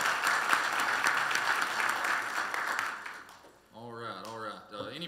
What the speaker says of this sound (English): Let's give them a round of applause right quick.